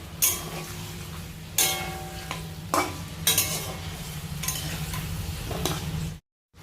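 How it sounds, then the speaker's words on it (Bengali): Cashews, almonds and raisins stirred and frying in a pan for butter chicken, with steady close sizzling and several sharp scrapes of a spoon against the pan, then a sudden cut to silence near the end. "এবার এর মধ্যে দিয়ে দেব কিছুটা কাজু আমন্ড আর কিশমিশ একসাথে সবটা নেড়ে চেড়ে ভেজে নেবো"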